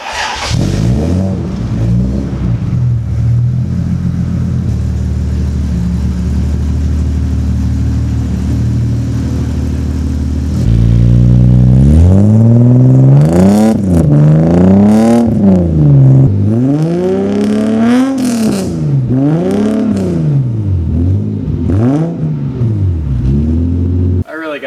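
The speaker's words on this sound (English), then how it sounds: "Brand new headers put on the Supra, and it makes a huge difference to the sound" Toyota Supra Mk3 with new exhaust headers, first a steady loud idle for several seconds, then a series of rising and falling revs, close and loud with short pauses between blips.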